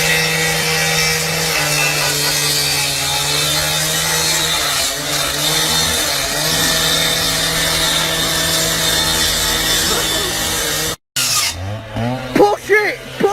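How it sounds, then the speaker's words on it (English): A cordless angle grinder cuts through a surveillance camera mount with a steady, loud, harsh whine and rasp for about eleven seconds. After a brief cutout, a short clatter of shifting metal and handling noises follows. "a man uses a cordless angle grinder to cut down a surveillance camera"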